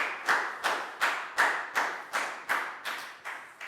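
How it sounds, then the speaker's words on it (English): Children in a Year 4 classroom clap for a classmate, about eight sharp, evenly spaced bursts of applause, close and fairly quiet. "High five and a big round of applause for Lakgao, please, guys."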